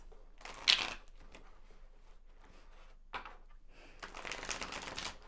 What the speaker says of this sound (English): Let's see if I can hold on to the cards to shuffle.